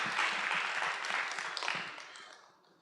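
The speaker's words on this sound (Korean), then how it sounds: "하나님께 박수 한번 할까요?" Applause from an audience at an evening church youth gathering, a dense wash of many hands clapping that holds steady, then thins and fades out over about three seconds, with no talk on top.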